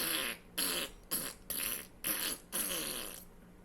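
A human voice mimics a loud, sputtering fart, blowing six rough bursts in a row, each a short blast with brief gaps between them.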